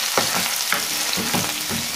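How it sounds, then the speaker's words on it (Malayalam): Chicken with ginger, garlic, curry leaves and green chilli stirred in a hot pan for chicken piralan: a steady loud sizzle with repeated scraping strokes of a spoon at a regular rhythm, close up, no voices. "ഇതൊന്ന് നല്ലതുപോലെ ഒന്ന് ഇളക്കി കൊടുക്കാം."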